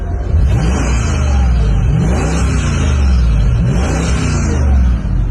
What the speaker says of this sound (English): So how about engine sound?